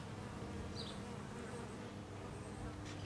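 Honey bees fanning at the entrance of a hive, a steady close insect buzz and hum that runs continuously throughout with no talking.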